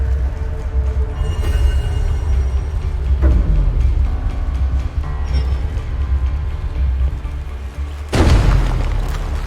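Gunfire and explosions pound cover in the video game Rain of Reflections: a dense, continuous barrage of booms and thuds, with a sharp heavy blast near the end.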